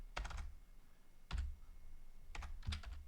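Bursts of close keystrokes on a computer keyboard come in small rapid clusters separated by short pauses, soft and dry against a quiet room.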